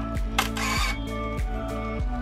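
A Pentax SF10 film camera shutter fires repeatedly at close range. Sharp mechanical clicks and whirring winds come in a steady rhythm of about four cycles in two seconds.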